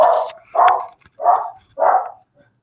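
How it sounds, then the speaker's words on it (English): Dogs passing by on a walk give four loud, close barks in an evenly spaced rhythm, each a short burst separated by brief silence. "You can see there's a man walking by with a couple of dogs."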